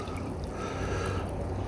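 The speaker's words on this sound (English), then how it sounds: "So I'm going to pour salt water in." Salt water is poured into a container of silver-recovery solution, giving a steady, continuous watery hiss and trickle at close range with no talking.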